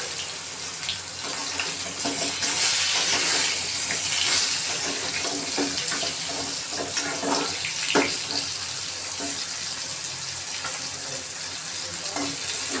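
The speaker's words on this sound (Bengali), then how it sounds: "এবার আমগুলো ঢেলে দেবো।" Raw mangoes tipped into hot mustard oil with chilli and bay leaf set off a loud, continuous hissing sizzle that rushes like running water, with occasional crackles throughout.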